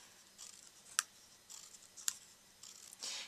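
Scissors snipping scalloped paper for a handmade treat box flower, a few sharp separate snips spread over a few seconds against quiet background, close and crisp.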